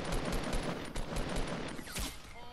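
A video game firefight with a sniper rifle shot: a quick series of sharp gunshot cracks and bursts, fairly loud, with no voices.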